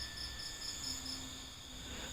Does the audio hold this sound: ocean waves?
no